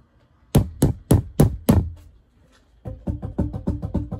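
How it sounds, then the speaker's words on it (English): A plastic boomwhacker tube is struck against a hard surface: five sharp, ringing knocks in a steady rhythm, a pause, then a quicker run of softer, evenly spaced taps, close and clear with no talking. "each different boom whacker has a different note to it. So do you hear that pitch?"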